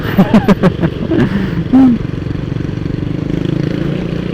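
A classic motorcycle engine runs close by while riding on a road, with a steady low throbbing drone and a few sharper horn-like or revving bursts early on.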